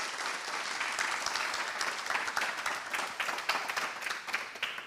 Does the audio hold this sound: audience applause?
yes